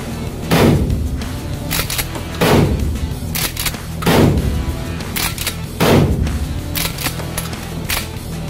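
A Hunt Group MH-Tactical 12 gauge shotgun from Turkey fires four loud, sharp booms at a steady pace about every two seconds, each followed by brief clatter and echo, with no talking between shots.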